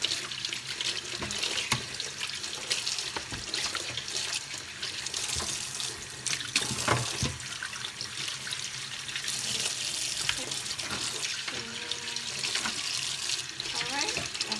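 Tap water runs steadily into a sink as raw chicken feet are washed for a Lao boneless chicken feet salad, a continuous splashing hiss with small clatters, close and moderately loud throughout.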